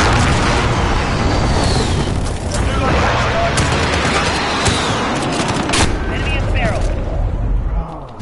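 A cruise missile strike lands in a hardpoint and headquarters match of a first-person shooter, with loud booming blasts and crackling gunfire filling the clip continuously while players shout over it.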